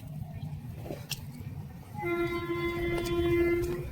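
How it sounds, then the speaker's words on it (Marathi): A Konkan Railway train passes near a riverside fishing spot, low rumbling at first and then a sustained horn-like tone swelling louder over the last two seconds. "सगळीकडे आपल्याला कोकण रेल्वेच भेटते"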